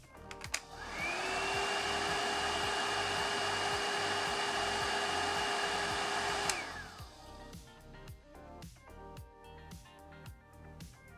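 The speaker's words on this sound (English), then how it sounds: "If you want it to dry quickly, use a hair dryer to speed up the process." A hair dryer blows steadily at close range for several seconds while drying nail glue, giving a loud, even whoosh with a faint whine, then switches off abruptly, leaving quiet room sound.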